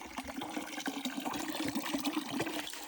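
Cold drinking water runs steadily from a tap along a hiking trail in Paklenica National Park, Croatia, a continuous close splashing trickle with no talk.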